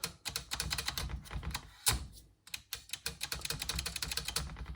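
Keys clicking on an IBM PC/XT Model 5160 keyboard with a freshly refitted space bar, a rapid, close run of sharp mechanical clacks with a short pause midway, no voices.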